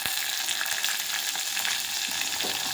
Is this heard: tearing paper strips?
no